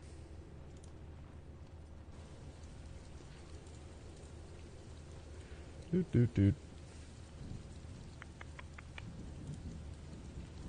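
Steady rain ambience with occasional thunder hisses as a soft, continuous bed beneath a voice, broken by a brief burst of louder sounds near the middle.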